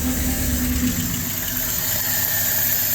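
A LaSalle car engine, fuel-starved and lacking power, runs with a steady, close rumbling drone and a faint irregular knock, holding at an even level without clear revving peaks.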